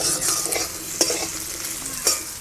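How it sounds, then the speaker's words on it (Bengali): Chopped brinjal fries in a little oil in a pan for a drumstick-flower dish, a close, continuous sizzle broken by repeated spatula scrapes and stirring knocks, with no voices. "এবার কুচি করা বেগুন দিয়ে দেবো"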